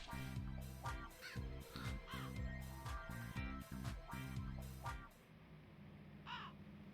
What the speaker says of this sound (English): Very realistic birds.